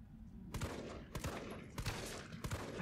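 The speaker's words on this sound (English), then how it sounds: "I cannot shoot with a pistol to save my life" Pistol shots from Resident Evil 3 Remake, four sharp reports spaced roughly half a second apart, each a loud crack over a steady low game ambience.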